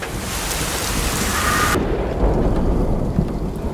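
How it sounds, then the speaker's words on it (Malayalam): Steady heavy rain pours in a dense hiss beneath a rolling rumble of thunder, part of a short film's soundtrack, with an abrupt change partway through and no voices. "മഴയുടെ സൗണ്ട് മാത്രമേ ഉള്ളൂ, മഴയില്ല."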